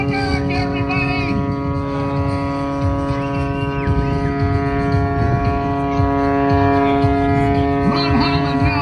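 Rob Holland's aerobatic plane hovering in a nose-up hang at the 2019 Blue Angels Homecoming airshow in Pensacola, a steady, unbroken engine drone that lasts throughout against a broad outdoor crowd murmur.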